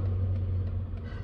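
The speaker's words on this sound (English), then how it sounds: "A lot of traffic out here in the afternoon." Steady low rumble of road traffic on an afternoon street, a continuous engine drone with a faint car passing now and then, fairly close and unbroken.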